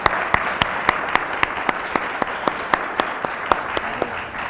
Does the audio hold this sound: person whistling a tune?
no